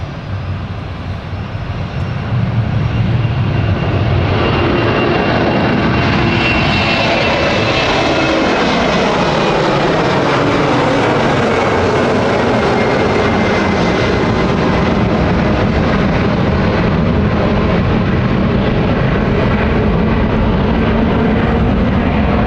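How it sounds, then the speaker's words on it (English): A British Airways CityFlyer airliner departing London City Airport for Milan, a loud, sustained engine roar that swells and holds steady throughout, with a broad rushing rumble and no voices. "Departing at the moment is the Milan flight from British Airways, from City Flyer."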